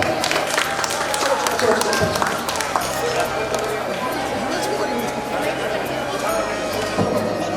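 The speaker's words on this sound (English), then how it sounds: "Give a clap." A crowd at a mall fashion show for children claps amid loud, echoing hall chatter. The sharp hand claps are scattered and uneven, and talk and crowd bustle run underneath throughout.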